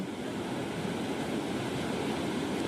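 Steady wind and lapping water at Napeta reservoir, a continuous broad rushing wash with buffeting on the microphone, loud and unbroken, with no voices.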